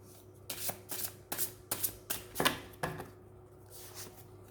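Tarot cards are shuffled and drawn by hand, giving a series of quick papery riffles and slaps in irregular bursts, close and fairly soft, then fading to light rustling.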